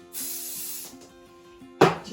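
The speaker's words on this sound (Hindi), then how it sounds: "और स्प्रे।" Hairspray hisses from a can onto hair during an advanced hairstyling lesson, in two close bursts of steady spraying followed by a brief louder rustle.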